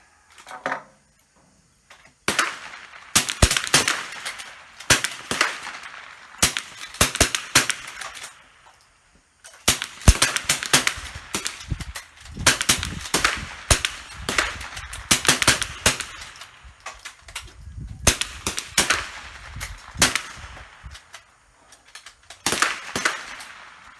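Many sharp, loud cracks from .22 military trainer rifles at an outdoor shooting range, fired in irregular volleys with some fast strings of shots and brief pauses between them; no talking.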